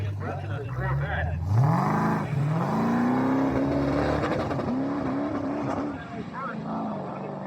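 At a dragway, a Tesla and a wagon launch side by side in an outlaw-class drag race, with a loud engine winding up through rising gears. An announcer talks over the roar.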